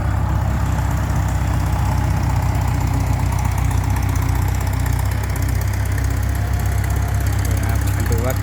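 Ford farm tractor engines run loud and steady at close range, a continuous low rumbling drone with a dense rattling texture and no pauses.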